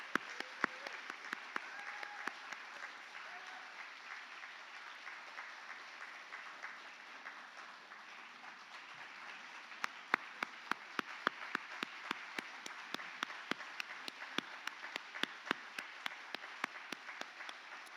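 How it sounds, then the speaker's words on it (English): Audience applause breaks out at an awards ceremony of an annual conference, a steady wash of many hands clapping that fills the room, with sharper individual claps standing out more clearly toward the end. "Let's give him one big round of applause."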